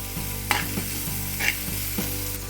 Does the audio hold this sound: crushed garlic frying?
yes